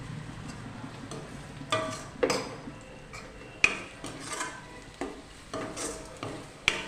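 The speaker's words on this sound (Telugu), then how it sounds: "కారం, ఉప్పు, అల్లం వెల్లుల్లి పేస్ట్ బాగా కలిసేలా కలుపుకోవాలి" Spoon stirring chicken marinade of chilli, salt and ginger garlic paste in a bowl, soft scraping and clinks repeating in an irregular rhythm, close and quiet.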